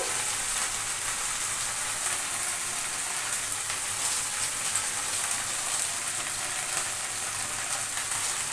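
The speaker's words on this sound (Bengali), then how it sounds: "ভেন্ডিটা ভাজা হতে থাকুক" Okra frying in a pan with salt and turmeric, giving a steady, even sizzle that holds at the same level throughout, close and moderately quiet, with no talking.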